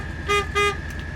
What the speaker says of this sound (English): Okay, 49 Ford, horn, right here.